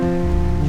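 Rain falling in an anime scene: a loud, steady wash of rainfall, continuous and close, with no talk.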